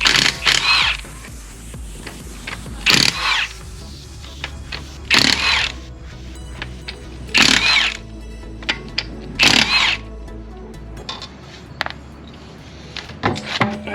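A power tool in bursts spins a 17mm socket on the wheel lug nuts of a BMW G80 M3 Competition, several short loud whirring runs spaced by pauses, with metallic clinks and handling noises in between.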